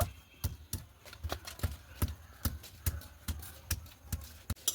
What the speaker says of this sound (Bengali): এইভাবে চালতাটা একটু থেতো করে নেব